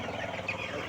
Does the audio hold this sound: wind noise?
no